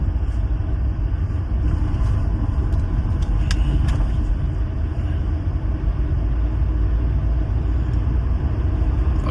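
Mercedes-Benz C250 Exclusive Edition driving on a bumpy road, a steady loud low rumble of engine and road noise throughout with no distinct surge, heard from inside the car.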